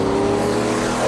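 A big-block V8 engine on an off-road trail gives a short, loud, close rev, a steady throaty roar lasting about a second.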